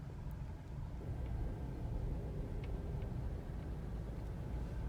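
Steady low rumble of a car driving along a road in Colombia, a continuous engine and road drone heard from inside the vehicle with no talking.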